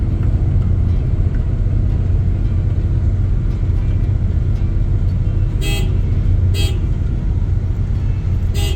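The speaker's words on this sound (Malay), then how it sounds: "dia orang lebih suka guna horn" Car horns honking in busy Saudi Arabian traffic, heard from a bus: several short toots in a row stand out over a constant rumble of engines and road noise, with no talking.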